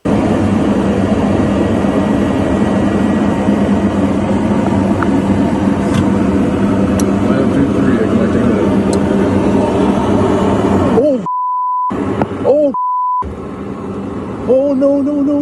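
Airplane crash landing on an icy runway, heard as a loud continuous roar and rumble of engines and impact that runs steadily for about eleven seconds before cutting out, followed by brief electronic tones and a short burst of noise.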